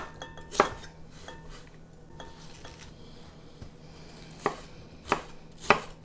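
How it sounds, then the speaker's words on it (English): A knife chops red and white cabbage and carrots on a board for coleslaw, with a few sharp, isolated knocks spaced irregularly and quieter handling sounds between them, nearby. "We're going to chop up the cabbage into bite-sized pieces."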